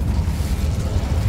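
Incendio fire spell cast in Hogwarts Legacy, a dense, loud, whooshing roar of flame lasting just over a second, steady and close with heavy low rumble.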